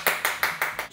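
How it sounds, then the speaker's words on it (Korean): Five crisp hand claps in a quick, even rhythm, close and fairly loud, with no voices. "박수!"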